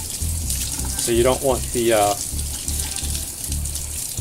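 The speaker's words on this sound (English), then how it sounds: "Now you definitely want to rinse this off." Running tap water pours over a pancake mixing bowl being rinsed, a steady close rush of water throughout while a voice talks briefly over it.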